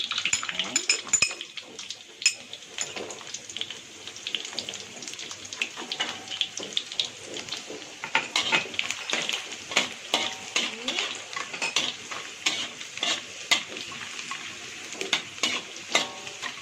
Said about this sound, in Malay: ni masukkan bawang putih 3 ulas tadi yang kita dah iris macam ni